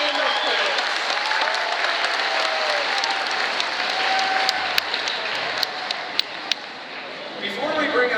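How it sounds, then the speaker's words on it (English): An audience at an aquarium marine mammal show gives sustained applause for performing sea lions, a dense, even wash of clapping with a few sharper claps standing out and faint voices beneath. "Let's get a big round of applause for the Pacific Lions."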